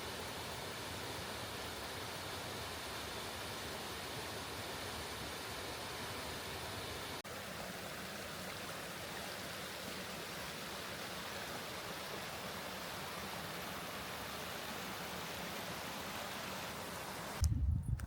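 Stream water churns and foams as it mixes with air, a constant broad rushing wash that stays even for the whole stretch and ends with a short low thump.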